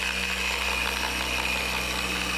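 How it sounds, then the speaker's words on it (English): An electric car buffer spins on a painted panel during final polishing, a steady motor hum with a constant high whine, close and continuous without talk. "So you always want to start your buffer on the lowest speed you have and get it going. And just work in that spot, just work it back and forth."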